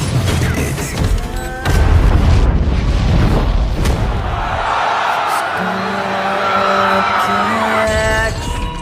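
An explosion from a remote-controlled weapon in a film scene erupts as a heavy boom followed by rumbling debris and crash, then settles into tense background sound with sustained musical tones.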